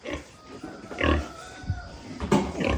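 Pigs on a farm grunt and snort close by, several short, irregular grunts rising and falling against low background noise.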